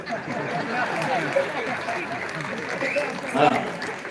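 Audience applause at an awards ceremony, a steady dense clapping that runs for several seconds with a swell near the end, with a voice speaking over it.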